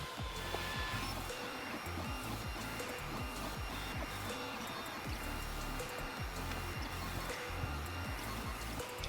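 A 3D printer lays down the first layer of an enlarged calibration cube, its stepper motors whirring and buzzing in a steady, continuous rhythm of short repeating moves, close and constant throughout.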